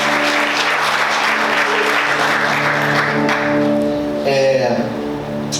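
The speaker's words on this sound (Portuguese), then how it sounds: "Aplauda Jesus bem forte." Church congregation clapping loudly for Jesus during a worship service, dense sustained applause over held keyboard tones, tapering near the end as a brief voice and music rise.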